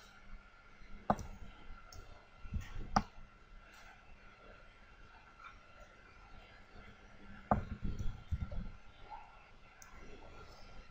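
Computer mouse clicks as a circle is drawn with the ellipse tool in Photoshop, a few sharp isolated clicks spaced several seconds apart over faint room noise.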